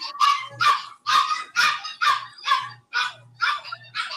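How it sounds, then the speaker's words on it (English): Dogs bark repeatedly in a steady rhythm, about nine sharp loud barks spaced roughly half a second apart, close and alone, with no talk. "That damn puppies, they riling them up over here."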